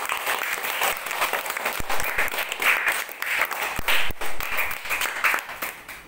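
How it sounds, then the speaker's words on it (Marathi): At a Children's Day prize giving, a room of people applauds a winner with steady, close hand clapping that swells and fades over several seconds. "जिज्ञासा टाळ्या वाजवा"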